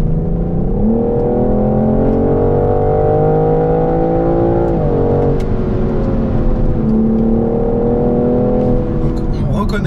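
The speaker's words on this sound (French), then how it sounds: "la signature BMW du 6 en ligne, le 6 cylindres en ligne 3 litres biturbo" A BMW M440i coupé's 3-litre twin-turbo inline-six revs in sport plus mode, its note rising and falling steadily through the whole stretch, loud and continuous with a voice talking over it.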